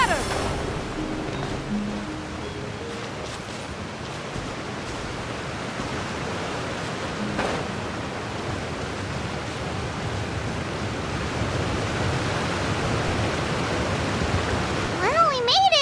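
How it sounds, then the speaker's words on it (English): A rushing waterfall in the video game Genshin Impact roars as a steady, dense wash of noise that holds at an even level for the whole stretch, with faint game tones near the end. "with the force of this waterfall, there's no way we're getting through"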